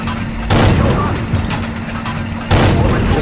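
Type T-34 tank gun firing in World of Tanks, two heavy booming shots about two seconds apart, each followed by a rumbling tail over a constant engine drone.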